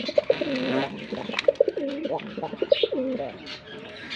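A sky-blue Rasgolla pigeon coos close by in a loft, giving a few repeated soft throaty coo phrases, with faint background noise.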